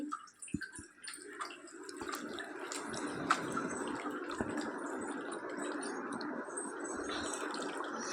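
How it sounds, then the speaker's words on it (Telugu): Gongura (sorrel) leaves being rinsed in water, with a steady close splashing and trickling wash that runs almost unbroken, plus a few brief clinks near the start and no talk. "ఈ ఆకులని నీళ్లు పోసి ఒక రెండు మూడు సార్లు వాష్ చేసుకోవాలండి"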